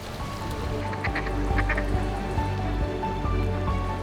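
Ducks quack in short bursts at a Michigan cider mill over a steady low rumble of flowing water, the calls moderately close and repeating every second or so.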